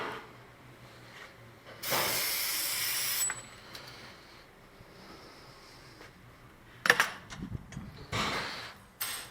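Penetrating oil sprays from an aerosol can during a front wheel bearing job on a Ford Explorer or Ranger 4x4, one steady hissing burst of about a second and a half, followed later by clanks and rattling of parts.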